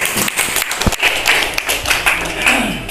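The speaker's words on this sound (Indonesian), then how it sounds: "berikan aplaus buat kelompok 1" Applause for a group at a community learning workshop, a burst of many hands clapping in an indoor room, uneven and lively, with some voices talking under it.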